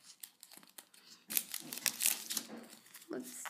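Close crinkling and tearing of a Pokémon card booster pack's foil wrapper being ripped open, in short scratchy bursts that grow louder partway through, with no one speaking.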